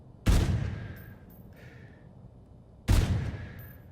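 Two loud, isolated gunshots from a quickscoped rifle in a video game shooter ring out a few seconds apart, each with a decaying tail and faint game sounds in between.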